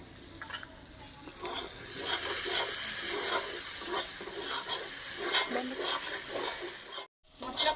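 Spices sautéing in a pan for a vegetarian potato, pointed gourd and paneer curry, with a steady close sizzle and repeated scraping stirs throughout, briefly cut off near the end.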